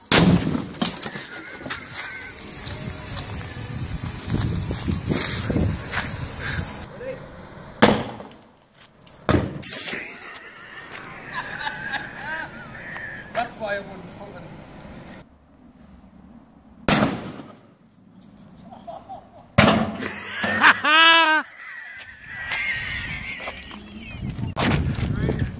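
Car air bags detonating in sharp, separate bangs with silent gaps between them, mixed with crackling debris and voices talking around the blasts.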